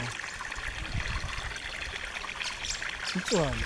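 Water from a dam outlet runs down toward a river as a steady, soft rushing trickle that carries on throughout, with a voice talking briefly over it at the end.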